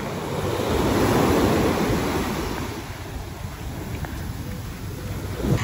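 Sea waves wash onto the shore in a rushing surge that swells and fades, with wind buffeting the microphone.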